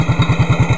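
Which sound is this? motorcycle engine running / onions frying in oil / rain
motorcycle engine running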